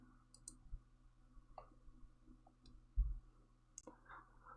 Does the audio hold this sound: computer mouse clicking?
yes